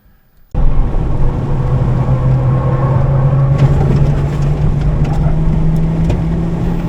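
A race car drives fast on the Pocono infield track, its engine a loud, steady, close drone that starts abruptly and holds an even pitch throughout.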